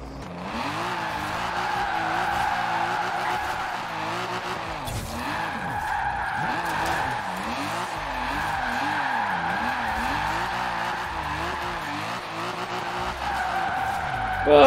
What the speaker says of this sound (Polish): O, przesterowałem.